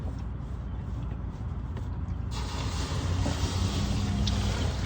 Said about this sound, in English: Now the water's draining out. You could hear it.